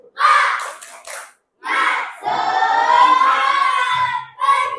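A classroom of children shouts a loud, rhythmic spirit chant in unison, with bursts of clapping mixed in. The group voices are close and energetic, in short phrases with brief pauses between them.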